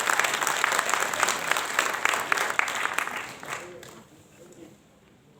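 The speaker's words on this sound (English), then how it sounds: "May I request everyone to applaud for him from this house for a big applause." An indoor audience at an elders' annual day ceremony claps in dense, steady applause that gradually thins out and fades to near quiet by the end.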